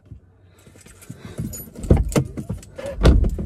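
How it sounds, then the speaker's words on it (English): Keys jangle and clink as they are pulled from a legging pocket, a close, uneven metallic rattling that builds into a few louder bursts. "Okay, where are my keys? So I can get them out."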